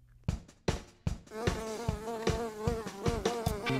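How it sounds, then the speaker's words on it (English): A honeybee buzzes up close, starting with a few sharp taps, then settling into a steady, wavering drone that holds on to the end with no voices. "Honeybee."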